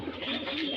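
Close cooing from a Lahori Shirazi pigeon, a soft continuous throaty murmur lasting under a second with no talk over it.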